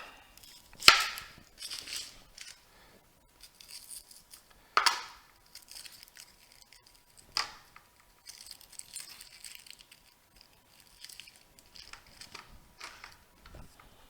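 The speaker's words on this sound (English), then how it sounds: "Slice that onion down the middle, turn it to the side, and slice it this way." A kitchen knife slicing an onion into half moons on a cutting board, heard as a few sharp isolated cuts near the start and middle, then lighter scattered chopping and board taps, close and fairly quiet with no talk.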